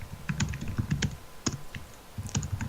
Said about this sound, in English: your typing's quite loud